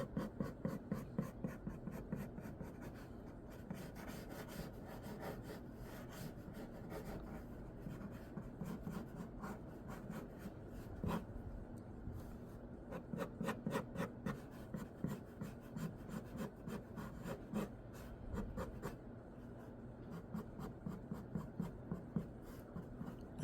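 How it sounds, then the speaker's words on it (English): Pencil drawing of a female figure being erased on paper, quiet rhythmic rubbing strokes in repeated bursts, close and soft, with brief pauses between passes. "let me just erase that whole thing."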